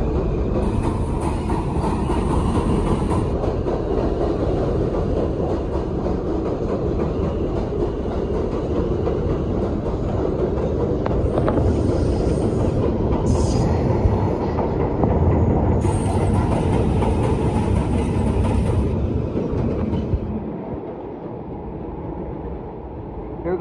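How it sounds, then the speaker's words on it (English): A model F train in a Brooklyn hobby store rumbles and rattles continuously at close range, with intermittent high-pitched wheel squeals over the steady clatter. "Here goes my F train."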